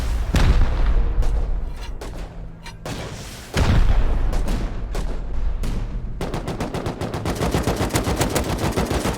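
Rockets, explosions and gunfire in a video game firefight around a tower, with loud booms and dense bursts of shots, a heavy blast near the middle, then rapid rhythmic automatic fire continuing to the end.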